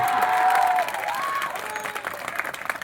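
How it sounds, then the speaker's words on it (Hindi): A crowd at a school farewell ceremony bursts into loud, dense clapping that carries on steadily for a few seconds, with a voice briefly audible at the start. "अरे वाह एक बार जोर ताली अपने लिए।"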